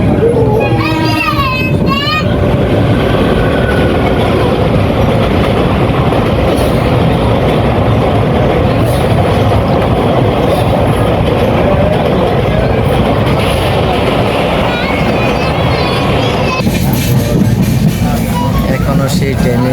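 Long-distance passenger train rolling toward Jagannath Puri, a continuous loud rumble and rattle from inside the carriage, with children's voices and chatter heard over it.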